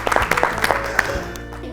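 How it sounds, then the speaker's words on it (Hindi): A short burst of scattered hand clapping from a small group, uneven and close, with a hum underneath and a voice briefly in the mix. "Let's clap for her. तालियां तालियां तालियां।"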